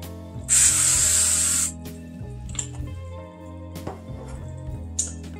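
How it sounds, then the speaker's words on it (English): A short, steady hiss of avocado oil spray onto a baking dish lasts about a second, followed by quiet clinks and handling sounds of kitchenware. "I'm taking my baking dish and I'm going to spray it with a avocado oil"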